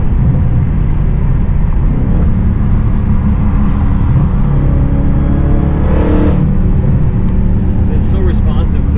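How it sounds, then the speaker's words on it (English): A loud supercharged Hellcat engine drones and revs close by, with deep exhaust rumble and a whirring supercharger whine rising above it; someone speaks over the noise. "The combination of that supercharger and the exhaust,"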